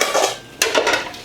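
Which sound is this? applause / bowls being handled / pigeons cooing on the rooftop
bowls being handled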